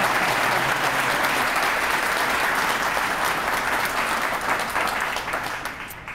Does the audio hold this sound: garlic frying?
no